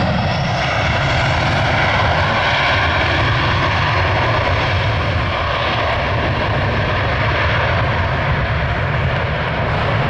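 An Airbus A321 with CFM engines lands on runway 6, its engines producing a loud, steady, broadband roar and whine that holds near and constant throughout.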